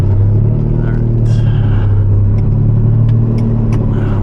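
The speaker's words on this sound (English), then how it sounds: "Now we're gonna do the 90-point turn out of the garage." A Lamborghini Diablo creeps out of a garage during a tight multi-point turn, its engine a loud, close, steady low idle rumble with small clicks and brief higher squeaks over it.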